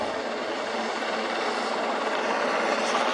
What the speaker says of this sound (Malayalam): വെള്ളത്തിൽ കിടക്കുന്ന ആളിനടുത്തേക്ക് ഹെലികോപ്റ്റർ ചെല്ലുന്നത് കണ്ടു